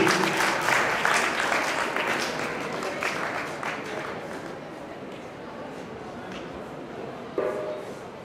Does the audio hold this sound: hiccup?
no